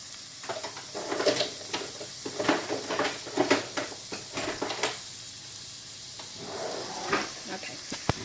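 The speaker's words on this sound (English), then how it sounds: "I'm going to saute some onions" Onions sauteing in a pan with a crackling sizzle, broken up by stirring scrapes from a wooden spoon, close and moderately loud.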